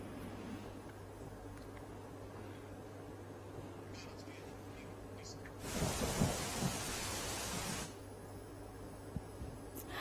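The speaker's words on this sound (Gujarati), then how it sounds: "તો જામનગર જિલ્લામાં અવિરત વરસાદ શરૂ થયો છે" Heavy rain falls in Jamnagar, a faint steady wash under a low hum that suddenly swells into a loud, dense roar for about two seconds before settling back down.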